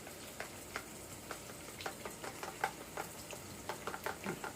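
Food stirred in a cooking pot with turmeric and salt added, giving soft repeated scraping and clinking strokes at a steady rhythm, close and moderately quiet, with no talking.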